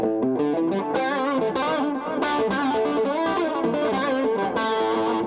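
A heavily effected electric guitar rings out on open strings in dense, shimmering strums with a chorus-like warble, loud and continuous throughout.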